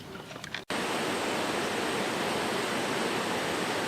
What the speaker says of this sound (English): it continues to pour outside